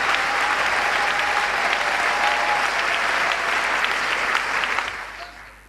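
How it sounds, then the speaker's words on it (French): A church audience applauds and cheers at a sermon, a dense, steady wash of clapping that holds loud and continuous for about five seconds before fading quickly at the end. "acclame encore"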